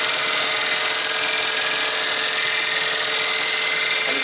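A bowl gouge with a relatively closed flute glides on its bevel, cutting a wooden bowl spinning on a lathe, giving a steady, loud, continuous hiss and whir with no break and no talk.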